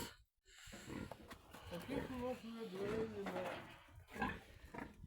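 Pigs grunt and snort close by in a cluttered barn, with rustling and knocking noises around them.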